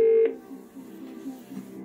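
Telephone dialing in the PS1 game Who Wants to Be a Millionaire: a short, loud keypad tone at the start gives way to a softer, steady tonal background.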